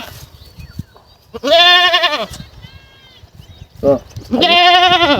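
Goats and sheep at a Bengali village livestock sale bleat loudly in two long, quivering calls, with a short bleat between them, over faint background murmur and shuffling.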